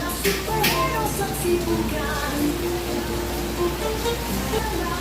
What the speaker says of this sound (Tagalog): Grabe, lakas ng ulan, no?